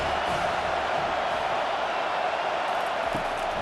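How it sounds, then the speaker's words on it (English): Football stadium crowd roaring behind the defense on third down in an Ohio State versus Penn State college game, a dense, sustained wash of distant cheering with faint voices mixed in. "Decibels rising as the crowd gets behind this defense on 3rd down."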